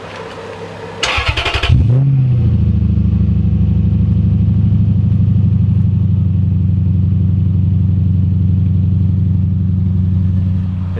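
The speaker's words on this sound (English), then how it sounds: "I thought I'd give you a cold start of this car now that the exhaust is slightly damaged" A car with a slightly damaged exhaust cold-starts: a short starter crank, then the engine catches with a quick flare and settles into a loud, steady, throaty idle that continues close by to the end, with no talking.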